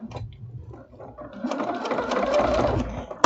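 Sewing machine stitching around the last curve of a fabric microwavable bowl cozy, a close, continuous mechanical whir that starts soft and rises to a steady running hum, with no talk.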